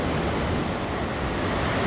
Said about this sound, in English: You can hear the noises of the waves in the background. They're still crashing in like mad behind us.